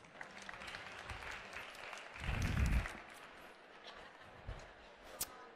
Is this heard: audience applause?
yes